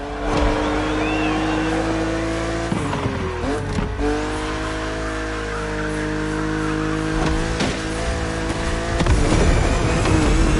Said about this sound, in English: But you are driving a coupe cabriolet